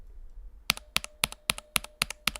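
Keys clack on a Monokei Standard mechanical keyboard, eight crisp paired strikes in an even, steady rhythm, close and clear with no talking.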